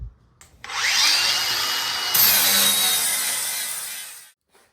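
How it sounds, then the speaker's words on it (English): An angle grinder smoothing fresh weld on the steel body mount of a 1968 Pontiac Firebird, a loud, close, continuous high whine and grinding rasp lasting about four seconds before spinning down to quiet. "Let's grind it semi-smooth."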